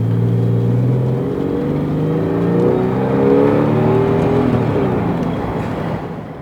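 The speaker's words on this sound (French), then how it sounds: "on a un bon moteur de 911 qui chante derrière" A Porsche 911 (996) rear-mounted engine revs and hums loudly from close by, its rising and falling harmonic drone building then easing off near the end.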